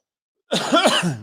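A single rough, throaty cough bursts out close to the microphone after a moment of silence, then trails off.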